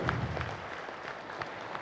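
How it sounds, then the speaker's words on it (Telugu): Audience at a meditation retreat talk giving a short, fairly soft round of applause, steady dense clapping heard from within the hall. "గట్టిగా చప్పట్లు కొడదాం"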